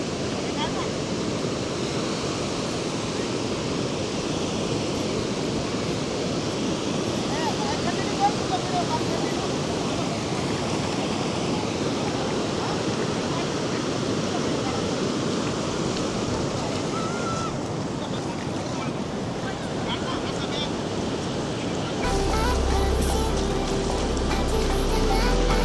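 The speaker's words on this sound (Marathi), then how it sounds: "लेट जरी असलो तरी आपण आलो आहे दिवेआगर बीच" Ocean surf at Diveagar beach, a steady broad roar of waves with wind noise, continuous and fairly loud throughout, with a voice briefly audible under it.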